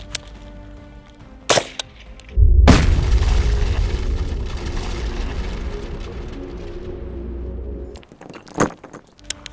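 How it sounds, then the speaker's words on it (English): A military rifle round strikes an HCAR level 4 ceramic body armor plate outdoors: one loud, sharp shot with a booming, rumbling tail that fades over several seconds. Fainter knocks come shortly before and after. "So the HCAR ceramic plate ate that round and spit it back out."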